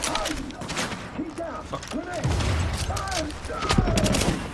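Rapid shotgun blasts and gunfire in The Division video game, loud bursts in quick succession over a dense battle backdrop, with a voice exclaiming briefly between shots.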